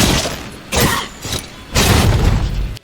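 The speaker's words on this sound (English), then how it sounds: "I'm as far as possible from the monster when trying to fire the clutch claw." In the Monster Hunter video game, a clutch claw grapple fires from far range, giving bursts of mechanical clanking and whooshing impacts in three distinct surges.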